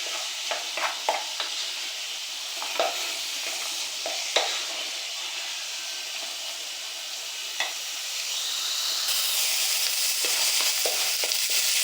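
Food frying in a pan with a steady bright hiss close by, dotted with small pops and light scrapes early on, then settling into a louder, even sizzle and no voices.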